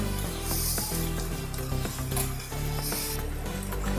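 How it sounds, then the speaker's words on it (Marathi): Onions roasting in a pan, giving a steady close sizzle with faint crackles and the scrape of a utensil, with no talking. "ह्याप्रमाणे मी आता कांदे व्यवस्थित भाजून घेते"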